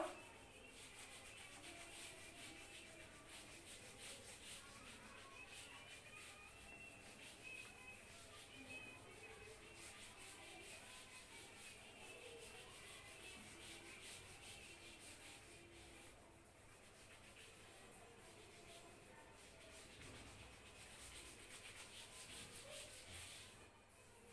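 Steady rubbing on a classroom blackboard as it is wiped clean, a continuous dry scrubbing texture that carries on for about twenty seconds at moderate level with no talk over it.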